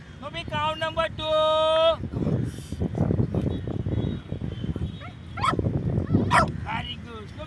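A trained puppy gives short yips and barks on command during a counting exercise, the barks interleaved with a person's praise and instructions close by.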